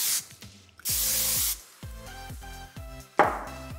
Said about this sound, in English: I'm gonna take some hairspray,